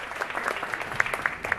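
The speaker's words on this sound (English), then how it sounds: "Once again, a big round of applause for our special guest today." Audience applause for a guest speaker at a public library event, a brief burst of many hands clapping at close to moderate distance with a fairly even, busy texture.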